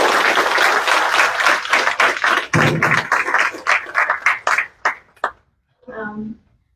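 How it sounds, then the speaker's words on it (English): Applause from attendees at a commissioner meeting, a dense round of clapping that gradually thins into scattered individual claps before fading, followed briefly by a voice. "give yourself a pat on the back or a round of applause because you have supported Sunshine"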